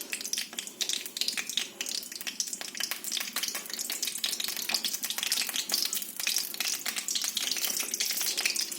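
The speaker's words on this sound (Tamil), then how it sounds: "கொஞ்சம் கடுகு போட்டோம். எண்ணெய் கொஞ்சம் உண்டனா ஊற்றிக்காங்க. கடுகு போட்டேன்." Mustard seeds frying in oil for a Namakkal-style egg gravy, a dense continuous crackling sizzle with rapid pops, close and steady throughout without any talking.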